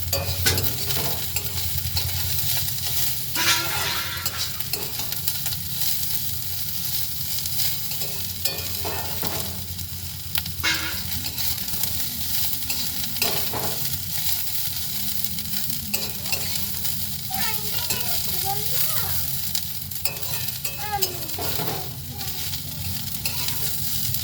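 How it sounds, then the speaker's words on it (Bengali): Cauliflower pieces frying in a pan for a long stretch, a steady close sizzle and crackle with frequent scraping and stirring strokes throughout. "কপিগুলো বেশ কিছুক্ষণ ভাজবো, যাতে কপির কাঁচা গন্ধটা চলে যায়, সেইভাবে ভাজবো।"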